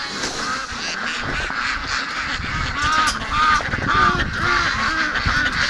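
Rouen ducks honk and quack in repeated loud calls, several birds close by and overlapping in bursts that grow busier toward the end, with no voices over them.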